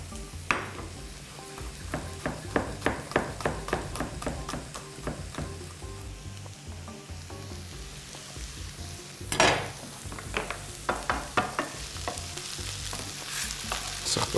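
Two large cloves of crushed, finely chopped garlic fry in a pan for a chicken dish in sour sauce, with a steady sizzle under rapid rhythmic stirring taps and scrapes, a pause, then a louder burst of stirring.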